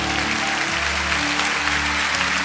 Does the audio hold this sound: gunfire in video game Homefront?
no